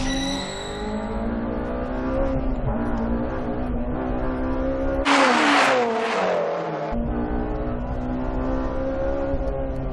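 Racing cars roar loudly as Nob's Honda Spoon car leads heat 1, engines droning and shifting pitch continuously, with a brief burst of rushing noise midway as a car sweeps past.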